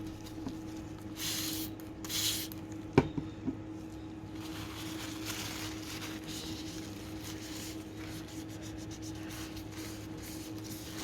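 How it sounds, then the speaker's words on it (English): A spray bottle gives a houseplant's leaves a couple of quick misting bursts during pest treatment for spider mites, the short hissy spritzes standing out close against a quiet room with a steady low hum. "I'm just going to give it a bit of a spray down, because they could be hiding."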